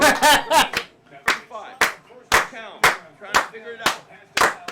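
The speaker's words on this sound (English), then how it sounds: "Everybody clap your hands." Hand claps ring out one after another in an uneven rhythm, close and sharp, with bursts of voices and laughter in between during a lively live-stream reaction to a Seahawks vs Eagles game.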